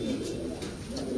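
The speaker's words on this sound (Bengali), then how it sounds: "প্রতিটি কবুতর দেখার মতো কবুতর আছে" Pigeons coo softly and continuously, a low murmuring that stays steady throughout with no talking over it.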